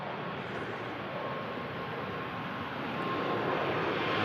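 A Ryanair Boeing 737 Max 8200 touching down at Manchester Airport in thick fog gives off a steady, distant jet roar that swells slightly toward the end.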